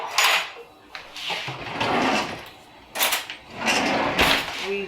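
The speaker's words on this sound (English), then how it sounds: "So let's mix this all up." Poultry seasoning being mixed in a bowl for Popeyes-style fried chicken: irregular scraping and clinking knocks of utensil against dish, several bursts spread across the clip, close and moderately loud.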